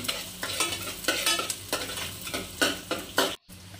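Green chillies stirred and sautéed in a pan for fish curry, a steady sizzle broken by repeated scraping strokes of a spatula, close and fairly loud, ending in a brief cutoff.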